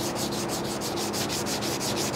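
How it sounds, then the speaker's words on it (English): Steady back-and-forth rasping of 220-grit sandpaper on a sanding block over automotive paint, the close strokes repeating in an even rhythm with no talking. "It's called back sanding."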